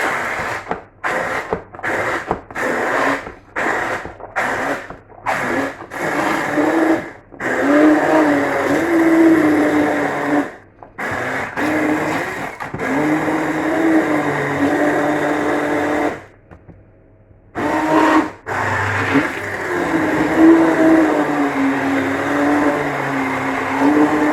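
Hand blender whirring through pomegranate seeds for homemade grenadine syrup, loud steady motor drone broken by repeated short stops and restarts, then longer runs, close and alone.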